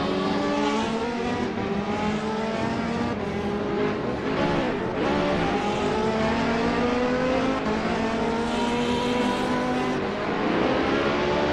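A BMW M3 race car engine in the Assetto Corsa racing game roars loudly and steadily throughout, its pitch rising and falling through gear changes and hard acceleration, with no talking.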